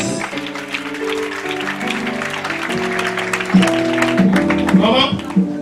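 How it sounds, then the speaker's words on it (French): A church congregation claps through a Sunday worship service, a steady wash of applause running the whole time beneath loud music and voices. "Put your hands together for Jesus."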